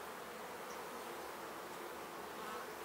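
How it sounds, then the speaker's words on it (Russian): Honey bees buzzing over a capped brood frame in an open hive as young bees emerge, a dense close continuous drone with no voices. "Вот пчелка уже вылупливается, вот вылазит."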